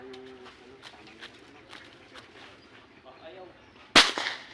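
A single sharp airgun shot bursts out loud near the end, fired while fishing, following a few seconds of quiet outdoor ambience with faint bird calls and soft movement.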